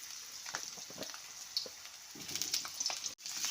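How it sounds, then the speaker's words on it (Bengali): Potatoes go into a pan of tempered spices and fry gently, making a soft, low sizzle with a few light stirring clicks and a brief dropout near the end. "আলুগুলো দিয়ে হালকা করে ভেজে নেব"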